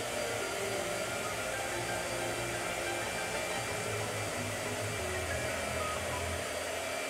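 A blow dryer runs steadily throughout at close range, a constant broadband whoosh with a low motor hum and no pauses.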